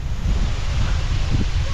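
Water pouring down from a waterfall near Mana village in Uttarakhand, lashed by strong wind: a loud, steady roar and rush of water and gusting air that fills the whole clip with no pauses.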